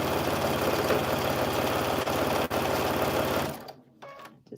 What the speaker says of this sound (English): I'm going to sew this right on top